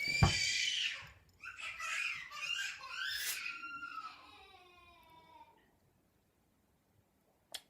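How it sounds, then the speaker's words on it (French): A young boy cries and wails in bursts at home, his high sobbing rising and falling for several seconds before trailing off into quiet. "voilà les cris de mon frère"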